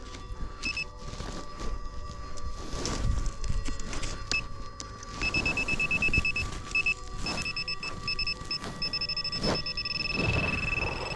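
Metal detector sweeping a farm field gives electronic signal tones, steady high beeps and a sustained higher-pitched tone over rustling and handling noise, close and clear, with no talk.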